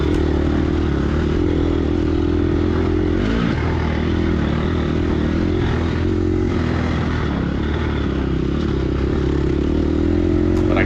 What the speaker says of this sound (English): God, listen to the revs, man. I'm really just wringing the neck of this bike right now.